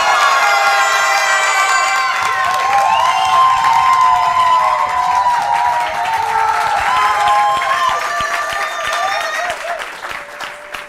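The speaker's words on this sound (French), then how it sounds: "Je vous demande d'applaudir pour la première fois un jeune dynamique" A lively audience applauds and cheers for a young contestant on a French television show, with loud sustained clapping, whoops and shouting voices, plus a high tone and voices over the crowd that fade slightly toward the end.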